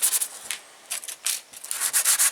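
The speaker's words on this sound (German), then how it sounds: "Mache grobe Schleifspuren in alle Richtungen rein." Coarse 100-grit sandpaper scrubs a metal handle in quick back-and-forth strokes, bursts of loud, close rasping separated by brief pauses, with no talking.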